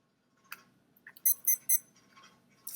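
A debate round timer sounds a short run of three bright electronic beeps in quick succession, plus a fainter beep at the end, in an otherwise quiet room.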